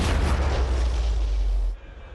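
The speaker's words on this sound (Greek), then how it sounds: "Η αναπαράσταση με τη βοήθεια της τεχνολογίας δείχνει το σφυροκόπημα των τυχών από το θρυλικό πολιορκητικό κανόνι των Οθωμανών" A legendary Ottoman siege cannon bombards city walls in a technology-aided reenactment of the fall of Constantinople: a sustained, heavy booming roar that cuts off abruptly into a quieter rumble.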